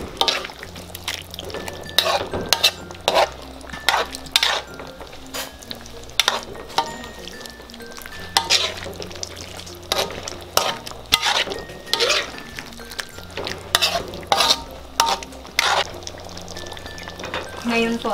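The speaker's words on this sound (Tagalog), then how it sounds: "Ngayon naman po ay ilalagay na po natin itong ating siling green at siling pula. Tapos hahaluin lang natin to." Green and red chili peppers being stirred in a frying pan, with repeated scraping and clattering of a utensil against the pan over a low sizzle, close by, and a faint background hum.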